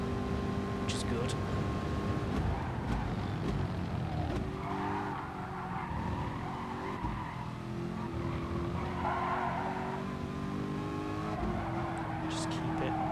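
A racing car's engine drones loud and steady from inside the cockpit during a Manufacturers Series race, shifting pitch with gear changes and throttle, with brief tyre squeal and a voice speaking over it.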